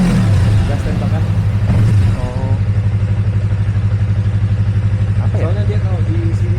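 A motorcycle engine in a bike shop idles with a steady low throb, then is blipped with short throttle revs, close and loud while people talk over it.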